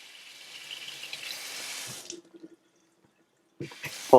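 Cold water runs steadily from the faucet of a newly installed kitchen sink, then shuts off and leaves silence. Soft clatter and handling sounds follow near the end.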